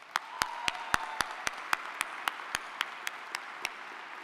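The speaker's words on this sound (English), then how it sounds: "Let's get them a round of applause." Graduates at a university spring commencement receive applause heard as a thin, evenly spaced run of sharp, close claps that slowly fades, with no talking.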